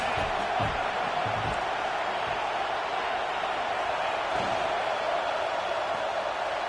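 A stadium crowd at a college football game makes a dense, continuous roar that stays steady throughout, with faint cheering.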